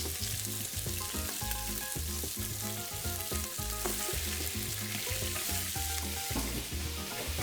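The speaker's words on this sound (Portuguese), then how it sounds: "Eu vou selar o rabo" Pork tail and feet searing in a hot pan for feijoada, a loud, continuous sizzle and crackle that holds steady throughout.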